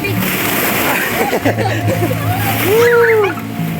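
Water splashes and sloshes close by as people move through it, mixed with excited voices and a high squeal near the end.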